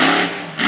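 Iron Warrior monster truck engine revving hard at full throttle during a freestyle run at Woodstock, Virginia, a loud, buzzing high-pitched roar that dips briefly and then surges back up.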